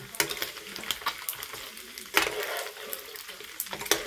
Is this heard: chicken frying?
yes